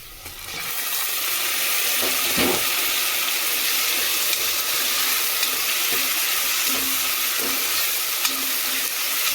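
Tomato pieces land in a pan of golden-brown fried onions, setting off a loud, continuous sizzle with stirring clatter and occasional sharp scrapes of a spoon against the pan.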